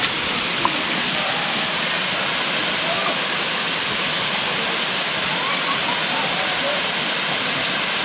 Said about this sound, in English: just there's the feature of the waterfall